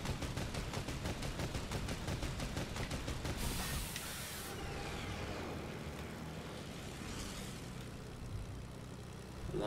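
Rapid strafing gunfire from an X-4 Stormwing plane in Fortnite, a dense rattling burst for several seconds over a steady engine drone that continues alone afterward.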